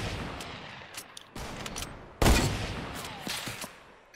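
Fortnite Battle Royale gunfire sounds as bursts of rapid shots in irregular clusters, with a louder close crack near the middle, then more scattered shots.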